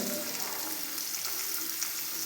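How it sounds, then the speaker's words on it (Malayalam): Steady, loud sizzle of chili powder frying in hot oil for a cucumber pulissery curry, a continuous crackling hiss with no break and no talking. "ഒരല്പം മുളക് പൊടിയും കൂടെ ഇട്ട് കൊടുക്കാം ഈ എണ്ണയിലേക്ക് ഇട്ട് കൊടുത്തുകൊണ്ട് മൂപ്പിച്ചെടുക്കാം"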